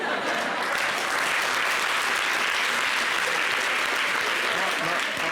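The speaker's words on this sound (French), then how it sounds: "n'applaudissez pas trop à ça" Steady, dense audience applause fills a TV variety show, loud and unbroken for the whole stretch with no voices over it.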